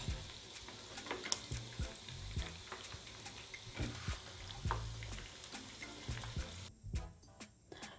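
Chicken pieces sizzle steadily in hot oil as they fry until crispy, a dense crackling hiss with occasional pops and stirring clinks, close and alone without talk.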